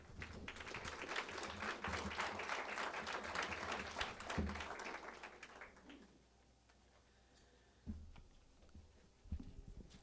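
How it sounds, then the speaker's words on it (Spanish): An audience applauds to welcome a speaker at a lecture on multiculturalism in Mexico, a sustained wash of clapping that dies away after several seconds, followed by a few isolated knocks. "les pido por favor que recibamos con un fuerte aplauso a Mardonio Carballo"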